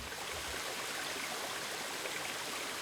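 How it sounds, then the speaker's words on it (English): Waterfall on Grand Island, Michigan: a constant, broadband rushing of falling water, steady and unbroken, fairly close with no voices. "This place has its own waterfall."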